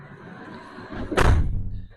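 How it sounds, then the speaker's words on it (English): A sliding van door, its panel lined with sound-deadening material, rolls shut and lands with one solid, heavy thud, close and loud after a short scraping slide. "I put some down in there so the door gives a nice solid thud now when I close it"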